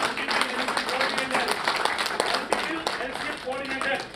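Applause from an audience at a Lions Club installation function in Coimbatore, a steady, dense patter of many hands clapping with a bright wash of sound that continues throughout, with some voices mixed in.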